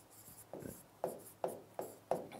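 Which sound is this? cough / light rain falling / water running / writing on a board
writing on a board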